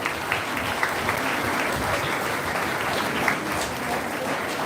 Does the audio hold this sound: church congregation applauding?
yes